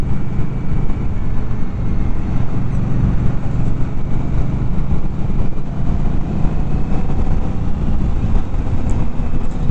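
A 2019 Indian Scout Bobber motorcycle's engine pulls hard in fourth gear toward highway speed, a loud, steady broadband roar mixed with wind rush throughout, with no talking.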